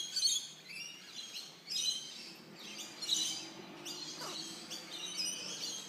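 King parrots feeding on seed give high, thin chirps and short whistled calls in scattered bursts every second or so. The birds sound fairly close but soft, and no one speaks.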